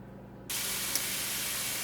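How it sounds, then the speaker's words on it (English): Ground pork browning in a hot skillet with a little sesame oil, a sudden loud steady sizzle that starts partway in and holds evenly, close by with no talk. "So I have the pork browning here in the skillet and that little bit of sesame oil."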